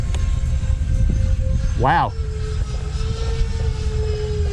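Model jet plane flying a full speed roll, a loud steady engine roar with a short swooping pitch sweep partway through, and a voice exclaiming briefly over it.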